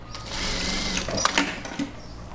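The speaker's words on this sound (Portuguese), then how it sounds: "E vou costurar. Retrocesso no começo e retrocesso aqui no fim" A sewing machine stitches knit fabric scraps in a steady close whirring run, with a few brief clicks and knocks near the end as the stitching reverses.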